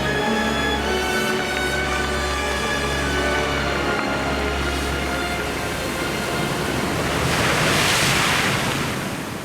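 Sea waves wash over sand and stones on the shore in a loud, continuous roar of surf, swelling toward the end, with wind buffeting the microphone throughout.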